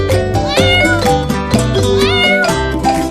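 A kitten meows loudly and close up in a rapid series of rising, harmonic cries, repeated several times over a few seconds with no voices over them.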